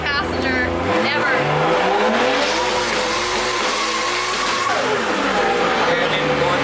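Nissan S15 with a DCT gearbox revving hard and loud through rapid-fire shifts from third into fourth, the engine note climbing, dropping and climbing again from inside the cabin, with excited voices over the top.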